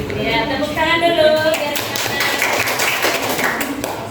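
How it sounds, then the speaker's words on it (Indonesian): A school class group claps hands together, a quick burst of sharp taps following a voice, with chatter continuing over the clapping. "Ya, tepuk tangan dulu."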